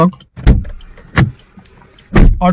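A car's door locks auto-unlock after the key is removed, giving three loud, sharp mechanical clunks spaced apart, close by with quiet gaps between.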